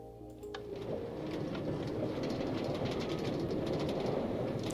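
A Minecraft train leaves a station, giving a steady rumbling clatter that builds after a brief tonal start and then runs evenly at moderate level, with faint chirps and ticks scattered above.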